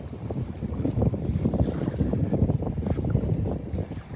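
Steady rumble of a ferry boat crossing from Tarpon Cove, with heavy wind buffeting the microphone and a constant low engine drone, no voices.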